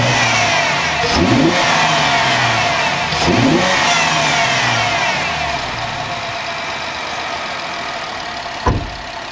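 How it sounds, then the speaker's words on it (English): A 2010 Chevrolet Camaro V6 with freshly fitted E3 spark plugs revs a few times, loud and close, with two sharp throttle blips over a steady engine drone and no talk. "And I'll rev it a little bit here."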